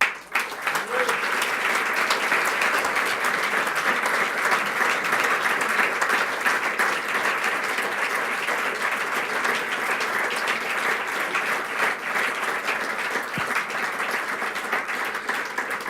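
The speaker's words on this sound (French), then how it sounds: "les féliciter et les applaudir" Steady, sustained audience applause fills a hall at a university retirement ceremony for two professors, dense and even throughout with no talk over it.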